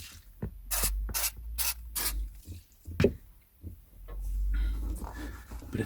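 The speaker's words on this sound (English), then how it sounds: "Bit of tactical spraying." Cleaner is sprayed in quick, close bursts onto a large format book, several rapid hisses in a row, then one more spritz after a short pause, with soft handling rustles around them.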